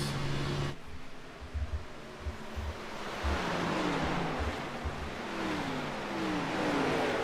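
A race car is heard from on board during a live race, its engine droning loudly and steadily under heavy wind rush, with pitch sweeps as the RPMs rise and fall through the corners.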